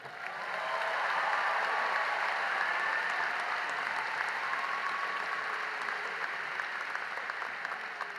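A commencement audience at NC State's Spring 2024 ceremony applauds a speaker in a large space, a sustained, even wash of clapping that swells in, holds for several seconds and stays steady throughout.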